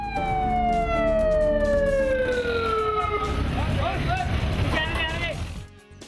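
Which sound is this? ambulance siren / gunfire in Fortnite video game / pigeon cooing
ambulance siren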